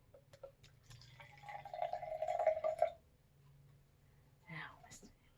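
Blue-colored liquid is poured during a classroom color-mixing demonstration with yellow and blue, giving a short, close trickling pour of about a second, with soft voices and faint handling noises around it.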